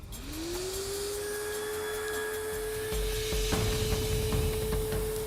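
A homemade smoking machine built from a vacuum cleaner starts up with a rising whine that settles into a steady loud drone and hum, with some clatter near the end.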